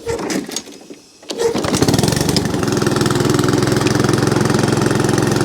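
A Honda HRX 537 lawn mower engine with its muffler missing sputters and catches after a short pause, then settles into a loud, steady, rough-edged running drone.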